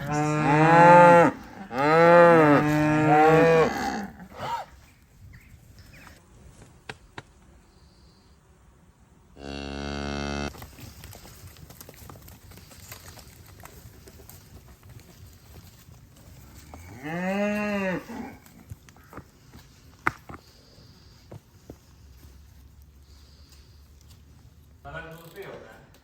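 Cattle moo loudly inside a farm shed before transport, with several long bellowing calls near the start, another later on, and quieter rustling and shuffling in between.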